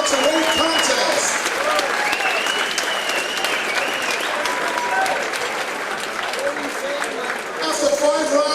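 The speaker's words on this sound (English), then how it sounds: "a round of applause for an excellent international welterweight contest" Crowd applause rings out steadily after an international welterweight boxing contest, a dense sustained clapping that swells again near the end, with a voice talking over it.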